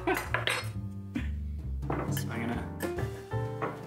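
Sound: knife and fork on a plate, eating gluten-free pizza

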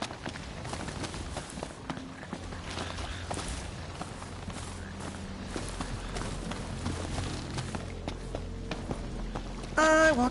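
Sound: chocobo running footsteps in the video game Final Fantasy XV

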